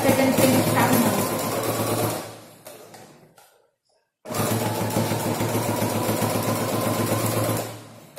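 A sewing machine stitches a multifunction wallet in steady continuous runs, close and fairly loud. It pauses briefly for about two seconds, then resumes its even mechanical whir.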